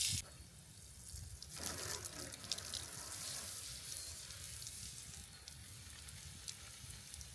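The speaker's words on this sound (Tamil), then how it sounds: "அந்த ட்ரிப்பர்லேருந்து தண்ணி எப்படி ஃப்ளோ ஆகுது" Water runs from a drip emitter on a temporary pipe hooked to a house hose in a DIY vegetable raised-bed irrigation setup, giving a steady close hiss and trickle throughout with no talking.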